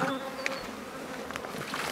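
Honeybees buzzing close to vineyards in an organic-farming village in France, a steady near insect drone with a few louder passes as bees fly by.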